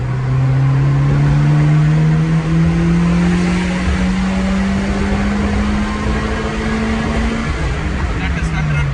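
A JDM Honda with a VTEC engine pulls hard in second gear, its engine note climbing steadily and loud throughout, heard from inside the car with no talk.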